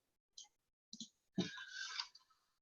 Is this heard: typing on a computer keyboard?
yes